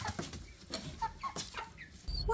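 Farm chickens cluck in a run of short, close, uneven calls, ending with a low thump.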